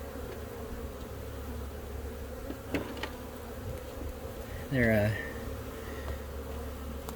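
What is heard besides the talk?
honeybees buzzing around a beekeeper during a hive inspection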